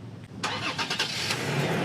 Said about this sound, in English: if I start the truck with the remote starter